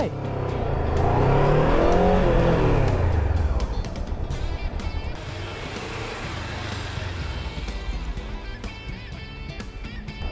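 A clutch-equipped motorcycle accelerates and is then braked hard with the front brake at the same speed as before, its engine note rising and falling loudly before settling into a rougher rumble with scattered clicks and road noise.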